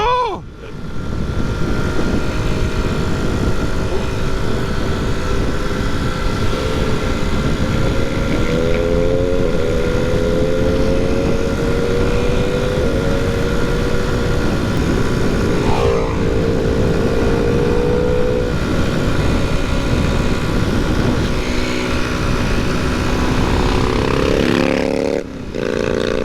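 Classic motorbikes ride through Scotland, their engines droning loud and close throughout with steady rumbling and rising, falling tones as the bikes accelerate and shift, plus strong wind noise.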